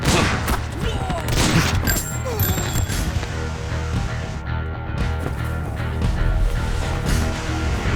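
A volley of gunfire erupts in a dubbed South Indian action film, a dense, sustained fusillade that stays loud throughout, with some voice sounds mixed in.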